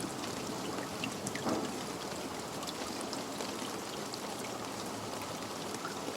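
A steady wash of rain hisses evenly, with scattered drops and trickling water, moderately loud and unbroken with no voices.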